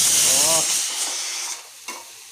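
Loud hiss and sizzle of tomatoes, onions and green chillies hitting a hot pan, settling into quieter frying with a brief voice at the start.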